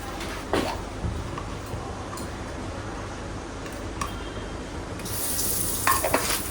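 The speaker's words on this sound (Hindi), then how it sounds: "मैं हींग जरूर डालती हूँ।" Asafoetida sizzles in hot oil in a kadhai, a continuous frying hiss with occasional spoon clinks, brightening toward the end, and no voices.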